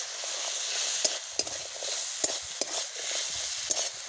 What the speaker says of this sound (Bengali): কাঁকড়া দিয়ে দিয়েছি, নেড়ে দিয়েছি